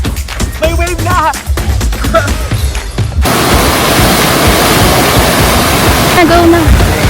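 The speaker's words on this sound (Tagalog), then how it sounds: "Ayun yung wave." Wave-pool surf at Aqua Planet water park in the Philippines, starting as a loud, steady wash about three seconds in, after a stretch of lighter water noise with voices and birdlike chirps over it.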